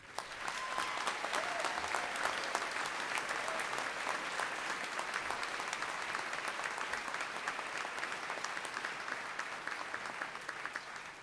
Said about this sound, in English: I want a round of applause for the faculty